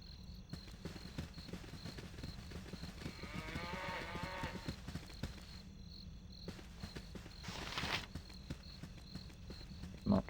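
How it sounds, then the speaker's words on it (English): Cows moo in the fantasy role-playing video game Baldur's Gate, a long low moo standing out over a steady outdoor ambience with faint chirps, then a shorter call later. "a couple of noisy cows"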